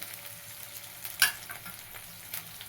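Finely chopped tomato sautéing in a pan for a vegetable dish gives a soft, continuous sizzle, with a single sharp clink of a utensil and a few faint stirring scrapes.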